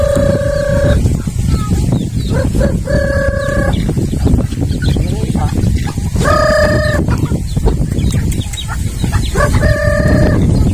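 Farmyard chickens and roosters cluck and crow during feeding, the crows rising in repeated bursts over a dense, steady bed of fowl chatter, near and loud, with no talking.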